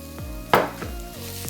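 Food stirred around in a pan in a Southern home kitchen, with a sharp clatter of a utensil against the pan and soft scraping over a quiet background hum, no talking.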